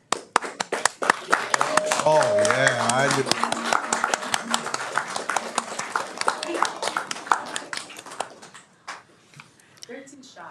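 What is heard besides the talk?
audience applause at city council meeting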